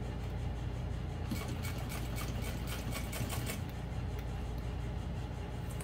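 A sewing machine stitches vinyl and waterproof canvas with thick thread on a long stitch length, a continuous rapid mechanical whir with a rattling needle rhythm that runs steadily and close throughout.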